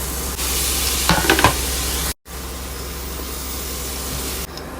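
Tomatoes hit a hot pan and sizzle loudly and steadily, with a brief burst of stirring scrapes, a split-second cut-out, then continued frying hiss without any talking.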